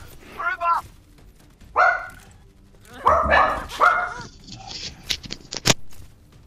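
A dog barking in a video game, several loud close barks in short bursts, mixed with game voice lines and effects.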